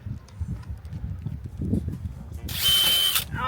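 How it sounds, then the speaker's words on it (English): Power drill boring into fiberglass on a sailboat, a short bright whirring burst near the end after low rumbling and knocking noises. "I'm not going to drill all the way through, don't worry."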